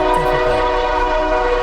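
A train passes close by near Lake Tahoe with its horn blaring, a loud sustained multi-tone chord over the heavy rumble of rolling wagons, sounding steadily throughout.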